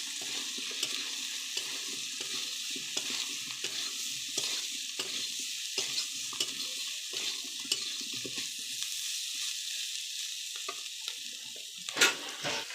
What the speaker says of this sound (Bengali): এবার দিয়ে দেবো আলু আর সয়াবিন দিয়ে আবার কিন্তু মশলাগুলো দিয়ে কষে নেব